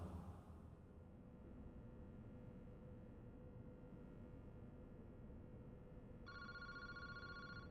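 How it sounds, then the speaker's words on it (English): A telephone in the horror game Paranormasight starts ringing near the end, a short electronic ring over a steady dark ambient drone. "that phone's ringing."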